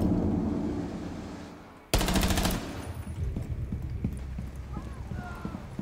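Gunfire from a video game breaks out as a sudden loud burst of rapid automatic shots lasting about half a second, followed by scattered softer impacts and faint background voices.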